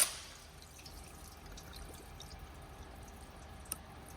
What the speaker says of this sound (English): Water's coming out.